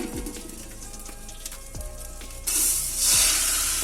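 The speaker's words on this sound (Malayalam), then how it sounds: "അരി ജസ്റ്റ് ഒന്ന് ഞാൻ ചൂടാക്കുന്നുണ്ട്." Raw rice grains being warmed in hot ghee in a pan for a catering-style Malabar fish biryani, a steady close sizzle with a few soft clatters and a brighter crackling surge toward the end.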